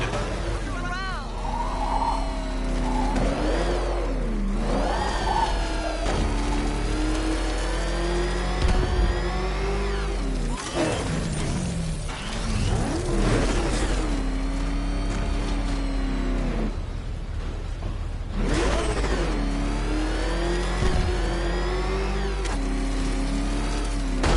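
Car engine in the Batman Arkham Knight video game, a continuous engine drone that rises and falls as the car revs and accelerates, with voices talking over it throughout.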